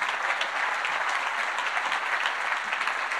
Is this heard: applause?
yes